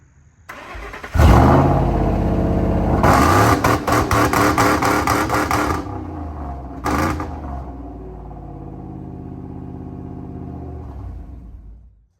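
A car engine cranks, catches and fires up, then revs hard in loud repeated bursts before settling into a rough, steady idle, close to the microphone with no talking.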